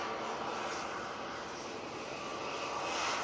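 An Emirates Airbus A380 going around, its jet engines producing a loud, broad, sustained roar that swells slightly near the end, with no talk over it.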